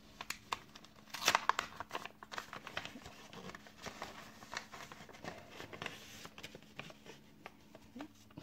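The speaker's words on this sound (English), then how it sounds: "Take the tape off there." Packing tape is peeled and torn off a mailed package, giving a close, dry crinkling and ripping with a sharp burst near the start, then softer intermittent crackles and rustles throughout.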